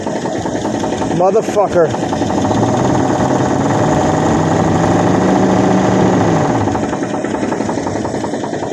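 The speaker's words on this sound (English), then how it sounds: "I put all this time and money into this fucking engine and it fucking knocks" A used Dodge V8 with a loose timing chain, its marks off by about a tooth, runs steadily with a knocking clatter. A man swears loudly over it near the start.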